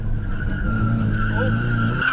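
Tires of a Nissan 180SX squeal continuously in a sustained drift, with the engine droning underneath at close range.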